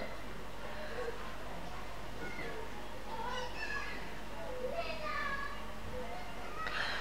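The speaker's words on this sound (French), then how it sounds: "Le bruit c'est dehors, hein, c'est les enfants qui jouent dehors." Children play outdoors, their distant shouts and chatter rising and falling over a constant low background hum, with no close voices.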